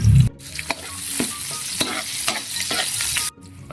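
Garlic and ginger fry in hot oil in a pan while being stirred, a close, bright crackling sizzle with scraping stirs. A short low thump sounds at the start, and the sizzle cuts off abruptly near the end.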